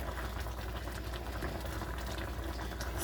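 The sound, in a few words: stirring coconut oatmeal in a stainless steel pot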